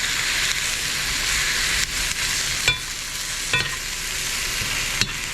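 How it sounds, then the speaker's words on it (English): Sesame seeds for chicken mole almendrado are stirred as they brown in a hot pan, a constant soft sizzle broken by a few sharp scraping clicks of the spoon. "I'm stirring it so that they don't burn, but that they get definitely brown."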